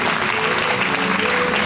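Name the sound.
audience applause for arriving speaker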